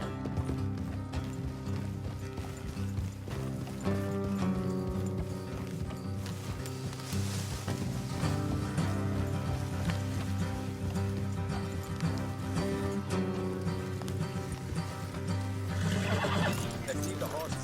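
Horses in Red Dead Redemption 2 whinny and clop along at a steady gait, their hoofbeats and neighs sitting under continuous game music and background voices throughout.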